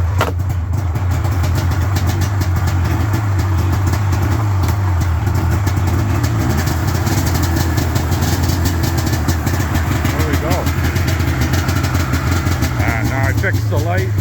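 A 1999 Ski-Doo MXZ 440 snowmobile engine runs close by with a continuous buzzing two-stroke drone and a steady low throb that does not change much across the whole stretch.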